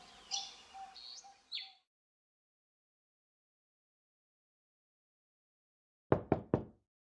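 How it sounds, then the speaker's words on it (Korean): Three quick knocks on a bedroom door, close and crisp, arriving alone after a long silence that follows some faint chirping at the start. "노크 소리가 들렸다"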